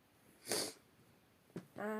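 A couple of short nasal sniffs, then a brief snorting breath, close by and fairly quiet with pauses between.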